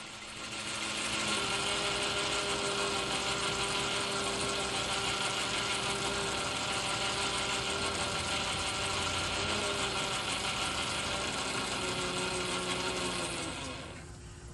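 A 1942 South Bend lathe turns down the rusted outside of a backplate for a 6-jaw chuck, a steady, fairly faint mechanical whir with tonal hum that holds for about thirteen seconds before winding down.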